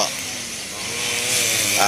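A brush cutter cutting grass on school grounds whines at high pitch, its motor rising slightly in strength as it cuts, steady and fairly close.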